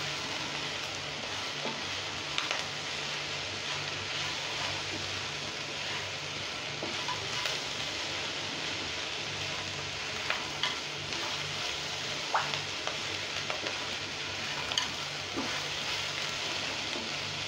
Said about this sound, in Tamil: இதையெல்லாம் நல்லா மிக்ஸ் ஆகிற மாதிரி ஒன்றா மிக்ஸ் பண்ணிவிட்டு இதை நல்லா வதக்கிக்கணும்.